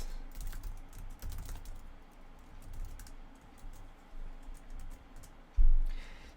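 Steady, quiet clatter of fingers typing on a computer keyboard while entering an email address into a git configuration command, with one louder thump near the end and no talking.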